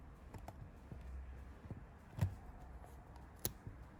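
Keys on a Dell Inspiron 3793 laptop keyboard are pressed in a quiet room, sparse faint clicks arriving one at a time, with one sharper tap standing out.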